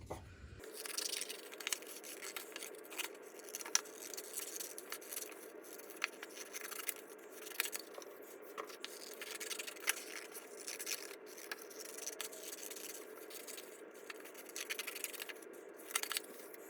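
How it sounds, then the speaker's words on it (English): Paper being cut out into small basketball backboards for a homemade mini basketball game, a steady run of soft scraping and snipping rustles with frequent little crisp snips, close and continuous. "the first step in making our own mini basketball is to cut out the backboards of our basketball nets"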